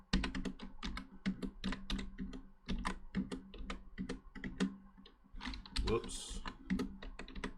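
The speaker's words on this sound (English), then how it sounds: "I'm gonna just type some random numbers in." Fingers tap out random numbers on a computer keyboard in quick irregular bursts of crisp clicks, close and quiet, and one short word is spoken partway through.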